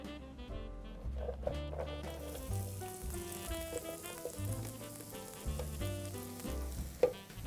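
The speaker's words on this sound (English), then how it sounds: "I'm just going to put them in a pan with a little bit of oil." Diced red onions frying in hot oil in a pan for a veggie Wellington, a continuous soft sizzle with occasional light clinks of a utensil, faint and close with no talking.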